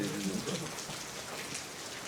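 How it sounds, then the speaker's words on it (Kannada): Monsoon rain falls steadily in a soft, even hiss of drops that stays faint throughout, with a brief murmur near the start. "ಕರೆಕ್ಟಾಗಿ ವೀಕೆಂಡ್ಗೆ ಮಳೆ ಬಂದೈತೆ."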